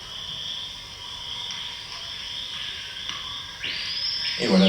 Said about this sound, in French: ça c'est la grenouille